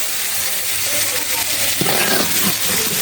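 Insects frying in hot oil, a steady loud sizzle throughout with a stirring scrape partway through and voices talking over it.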